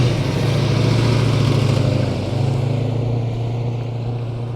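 A 1971 Ford Mustang Mach 1 with a 429 Cobra Jet V8 rumbles loud and close, a deep steady engine drone that dips slightly midway as it rolls past.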